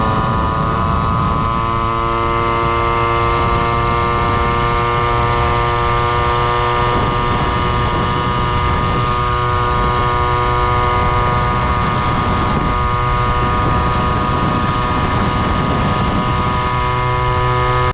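A Peugeot 103 SP moped engine runs loud and close while riding, a steady buzzing two-stroke drone with strong harmonic whine that holds throughout, its pitch rising and dipping slightly with throttle.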